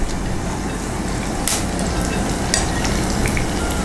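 Coriander seeds crackle and sizzle in about two tablespoons of hot vegetable oil in a pan, a steady close frying hiss with a few sharper pops, no voices.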